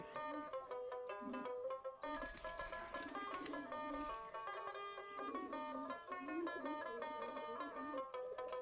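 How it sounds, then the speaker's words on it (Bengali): Desi Giribaz pigeons, also called Gulla pigeons, cooing and calling in their loft, a steady layered chorus of soft throaty coos and tonal calls running throughout at moderate distance. "আমাদের গিরিবাস কবুতর কেউ বলে গুল্লা কবুতর সবগুলো দেশি জাতের"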